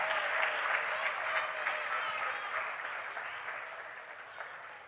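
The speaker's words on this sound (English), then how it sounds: "let us give the graduating class of the Joycelyn Liburd Primary School a round of applause." Steady applause from a crowd at a primary school graduation, dense clapping that stays loud throughout and tapers slightly toward the end.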